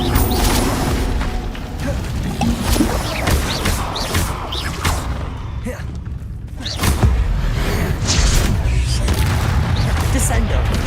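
Fiery Confringo spell blasts in the Hogwarts Legacy video game, a dense run of booming bursts and thuds over a constant layer of battle clutter, with a brief dip before the crashes surge back.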